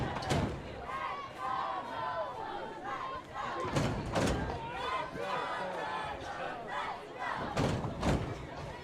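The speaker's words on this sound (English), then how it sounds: "Lobo crowd still here, still making noise." A home high school football crowd at a homecoming game, with sustained cheering and noise plus several loud thumps, heard beneath an announcer's voice.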